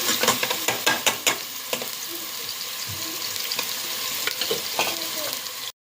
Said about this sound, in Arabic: ننزل عليها بالبصل، نعمل التقليه اللي هي بتاعت اللوبيا.